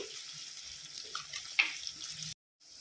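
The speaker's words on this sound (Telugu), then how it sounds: "ఇప్పుడు పచ్చిమిర్చి, ఆనియన్స్ సన్నగా తరుక్కొని వేసుకోవాలి. మంచిగా ఇవి కలర్ వచ్చే వరకు వేగనివ్వాలండి." Thinly sliced green chilies and onions are fried in oil for a mushroom and potato gravy, making a faint, soft sizzle with a brief clink before a short break in the sound.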